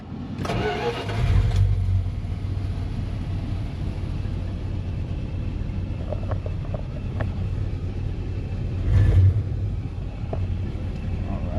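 With a fresh battery fitted, a van's engine cranks over in two short, loud starter bursts, one near the start and one near the end, with a low engine hum running between them.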